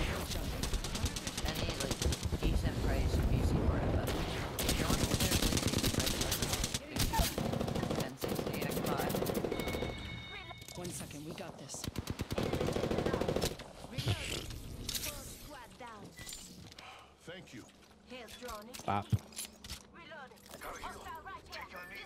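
Apex Legends gunfire, dense bursts of rapid automatic shots and cracks with game effects, loud at first and then sparser single shots, while players talk over it.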